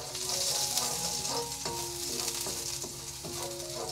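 Garlic and onion fry in a pan for a Cebu-style adobong labong, a dense, continuous sizzle close by, broken by several sharp clatters as the mixture is stirred.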